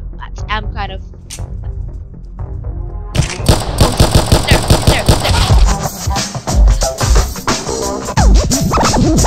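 Rapid gunfire from a Roblox 1v1 match, sharp bursts starting after a quieter opening and repeating densely over game music and effects, loud and close throughout.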